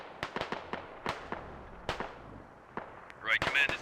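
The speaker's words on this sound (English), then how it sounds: "Mortars landing nowhere near Russian positions." Mortar shells exploding in the military shooter Squad, a series of sharp distant blasts at uneven intervals, with a brighter crackling burst near the end and faint voices underneath.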